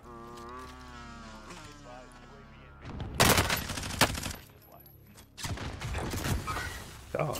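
Rapid bursts of MG82 machine-gun fire in a video game come through after a stretch of talking, loud and close, with dense rattling volleys broken by short pauses.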